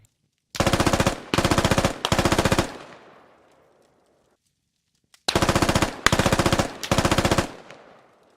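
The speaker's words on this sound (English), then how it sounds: "Here's a demonstration of being shot at by the same rifle, once on the same team and once on the enemy team." Squad rifle fire heard twice: three rapid automatic bursts, then a pause and three more bursts, each volley loud with a fading echoing tail, first from a teammate and then from an enemy.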